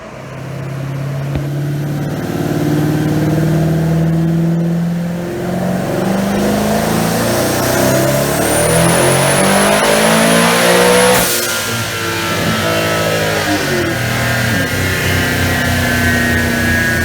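Supercharged Coyote V8 swapped into a 2005 Ford Mustang, running about 17 psi of boost on a dyno pull, revs loud and close with steadily climbing engine pitch, supercharger whine rising alongside, and no speech over it.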